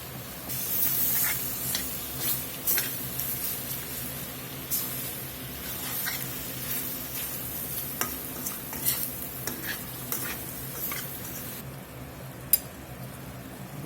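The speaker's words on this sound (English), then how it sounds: "I'm going to get about half this pint of those crushed tomatoes in there." Crushed tomatoes go into a pot of chili mac and get stirred, a steady scraping and sloshing with a faint hiss of cooking underneath, with a few sharper spoon knocks against the pot, close and moderately loud with no talking.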